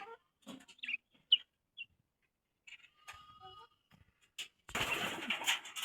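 Pigeons on a hot, sunny day give short, scattered calls and coos in a quiet setting, followed near the end by a brief burst of rustling noise.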